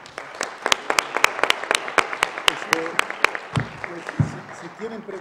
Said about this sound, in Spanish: les pediría un aplauso para despedirlo.